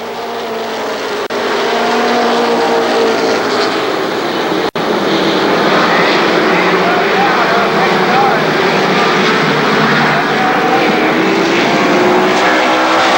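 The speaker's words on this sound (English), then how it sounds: "They pick up the throttle through turns 3 and 4." Stock cars race at Columbus Motor Speedway, a dense sustained engine roar from the pack throughout, loud and continuous with a race announcer talking over it.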